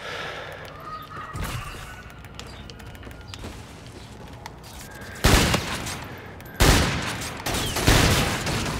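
Gunfire in Infinite Warfare during a Gun Game match: a few scattered shots early, then loud sharp bursts near the end, against quieter game background noise.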